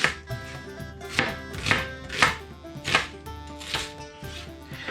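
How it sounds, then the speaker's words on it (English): A knife roughly chops a sweet onion on a cutting board, about eight crisp, close strikes at an unhurried, slightly uneven pace. "we're going to give it a handful of just really rough chopping"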